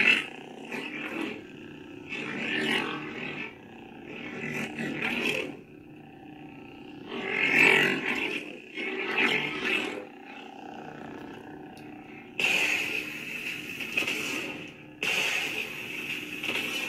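Sabertrio lightsaber with an electric, unstable crackling hum in the manner of Kylo Ren's blade, swelling and surging roars and swings that come in bursts between quieter stretches.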